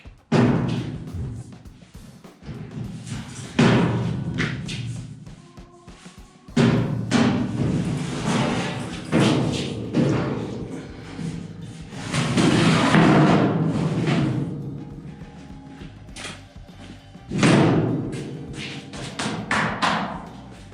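A heavy 18-inch toolbox, sized like a fuel tank, is lifted and set into place with a series of loud, close thumps and knocks, separated by quieter shuffling and handling noise.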